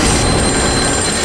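A telephone rings steadily and loudly in a room, its bright electronic tone continuing without a break through the short moment, with no talk over it.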